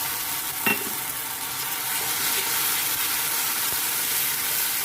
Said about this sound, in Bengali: এবার আমি এটা আদা রসুন লঙ্কা দিয়ে দেবো, হলুদ